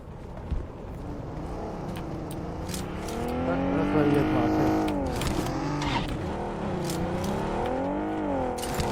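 A car engine in a battle royale shooter game drones and rises as the vehicle drives and accelerates, a loud steady rumble with changing pitch, with faint voices underneath.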